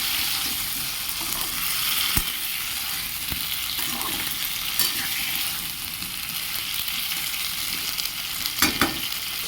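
Ash gourd, papaya and potato fry with spices in hot oil, giving a steady close sizzle with occasional stirring scrapes and soft clinks throughout.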